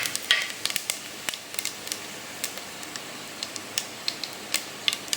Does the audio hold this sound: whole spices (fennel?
yes